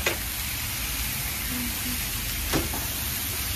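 Chicken kofta browning in a pan gives a soft, steady sizzle with faint hiss, fairly quiet and continuous, with a couple of brief clinks or stirring taps and no talking.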